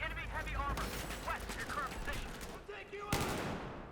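Hip-fire gunshots in Battlefield 4 rattle in dense bursts under a loud, busy battle mix, with a sharp report near the end and game voices talking over the fire.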